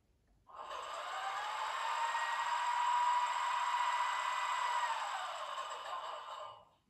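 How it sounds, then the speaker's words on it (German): The onboard compressor effect of a Märklin Krokodil Ce 6/8 model locomotive with an mfx sound decoder hums and hisses in one continuous, even airy rush that lasts about six seconds before cutting off, heard on its own. "Den Kompressor."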